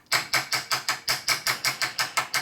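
A hammer taps repeatedly on a part from a 1979 93ci Harley shovelhead motorcycle engine to knock out a dent, about a dozen sharp, evenly spaced metallic knocks, close and loud.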